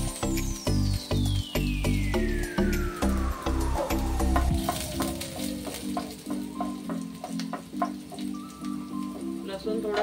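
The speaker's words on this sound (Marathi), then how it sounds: "मोहरी चांगली तडतडली की थोडा लसूण घालायचा आहे" Garlic sizzles and crackles steadily in hot oil with spluttering mustard seeds, a close, continuous frying hiss with stirring, while a falling whistle-like tone sweeps underneath.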